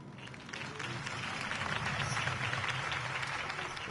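A crowd in a video game, Batman: The Telltale Series, applauds and cheers in a sustained wash of clapping that swells slightly and holds steady.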